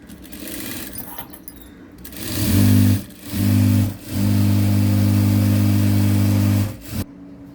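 A sewing machine stitches along one edge of cloth being prepared for piping, giving three runs of steady, close motor hum, each longer than the last, with brief stops between them.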